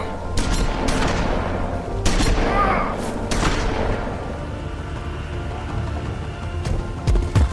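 Shotgun slugs fired in the video game The Wolf Among Us, a series of loud booming blasts spaced irregularly over a continuous rumbling din, with a few sharper cracks near the end.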